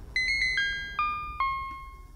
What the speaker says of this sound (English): a serum patch, which is just a sine wave with some extra harmonics